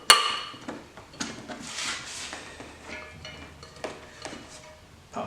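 Small metal tools clink and tap while action screws are backed out of an AERO SOLUS Remington 700 clone rifle, a series of faint, close, irregular clicks and scrapes with quiet pauses between.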